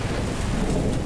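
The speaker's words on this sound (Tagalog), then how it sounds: "lumikha ng malakas na tunog na tinatawag naman nating kulog" A brief burst of loud thunder rumbles over the steady hiss of heavy rain.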